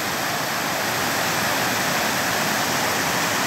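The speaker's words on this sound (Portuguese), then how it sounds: "Estou filmando a parte de cima da cachoeira." Upper part of a waterfall on a farm, a loud, steady, close roar of rushing water filling the whole clip with no pauses or talk.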